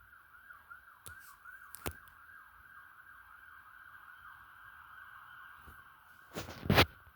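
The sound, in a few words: police sirens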